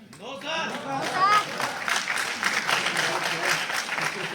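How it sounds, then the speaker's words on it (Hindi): An audience bursts into loud, sustained applause at an event, dense clapping building and holding steady, with a brief voice at the start. "जोरदार तालियां"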